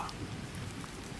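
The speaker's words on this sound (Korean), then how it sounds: "차 바깥에서는 천둥 소리가 울려 퍼지고 양동이로 물을 끼얹듯 비가 내리고 있었습니다." Heavy rain pours steadily outside a taxi at night on a mountain road, forming a dense, even hiss with low rumbling underneath that may be thunder.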